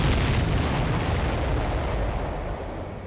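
Continuous heavy explosions from the Ace Combat 7 air-combat game, a loud sustained rumble of overlapping blasts filling the whole stretch and fading slightly at the end.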